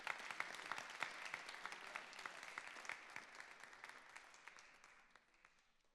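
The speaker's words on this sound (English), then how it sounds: "so please let's give him a round of applause" An audience at the Toronto Area Interfaith Council's 20th anniversary event at the Aga Khan Museum applauds a panel moderator, with sustained crisp clapping that holds steady, then thins and fades out over the last seconds.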